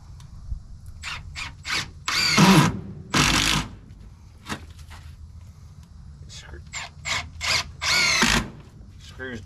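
A power drill drives screws into wood in several short whirring bursts, close and fairly loud, separated by pauses with soft handling noises.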